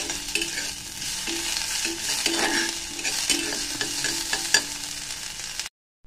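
Chicken dry-stirred in a wok with no oil makes steady scraping and stirring noise with a soft sizzle underneath. It runs close and fairly loud throughout, then cuts off abruptly near the end.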